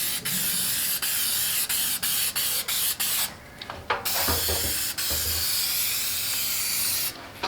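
Spray adhesive hisses from an aerosol can in long steady bursts, with brief gaps and a few clicks between passes, close and fairly loud, applied to a car trunk liner.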